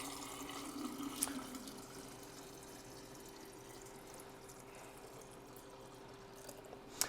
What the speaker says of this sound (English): I will be attempting to pour this vinegar back into this